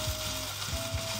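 Nasi goreng rendang fries in a pan with a constant dense sizzle, broken by a few soft scraping stirs, loud and close with no talk.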